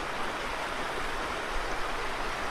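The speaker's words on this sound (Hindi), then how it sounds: "ये देखो अभी नदी थोड़ी ना सूख गई है, पर अच्छी खासी है अभी भी।" A river in an Uttarakhand village rushes steadily, a dense continuous hiss of flowing water with no breaks or voices.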